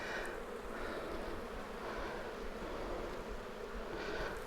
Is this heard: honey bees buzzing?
yes